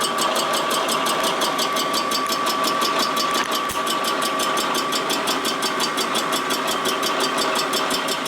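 A machine tool cuts across the surface of a cylinder head during a build of a 1941 Harley WL 45 flathead stroker motor, giving a steady, even mechanical drone with a faint rhythmic ticking chatter throughout.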